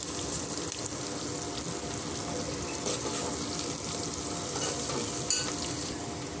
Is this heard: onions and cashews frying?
yes